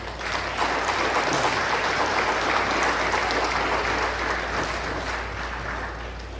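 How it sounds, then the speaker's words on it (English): Applause from an audience at a scholarship awards event honoring a community partner bank, a broad steady patter of many hands clapping with a low hum underneath and no clear talk. "help us give a big round of applause"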